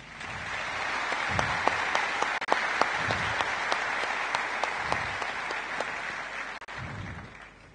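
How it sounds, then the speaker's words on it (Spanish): A roomful of people at a panel event breaks into applause. Dense, sustained clapping fills the space for several seconds, with a few louder individual claps standing out near the front. "Un fuerte aplauso, ¿no?"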